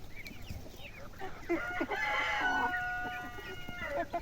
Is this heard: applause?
no